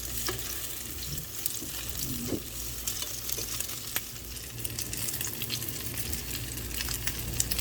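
Chicken and potato cutlets fry in a little oil in a pan over a medium-low flame. A continuous soft sizzle and crackle carries scattered sharp pops and clicks, and no one talks.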